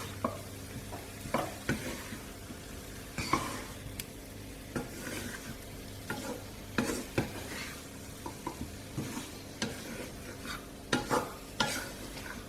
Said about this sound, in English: I'm going to add some fresh coriander and turn off the heat. Just toss that through.